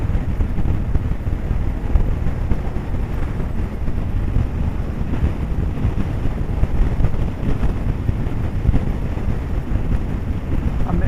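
Steady loud wind buffeting roars into the microphone while riding a motorbike on the road, a continuous low rushing blast with no talking.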